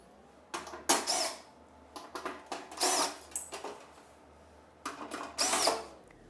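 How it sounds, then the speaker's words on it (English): Metal scrapes and clinks in short clustered bursts as a metric size 4 Allen key unscrews the backplate of an EBS 100 device, close and crisp with quiet pauses between turns and no talking. "use your metric size 4 Allen key to remove the backplate"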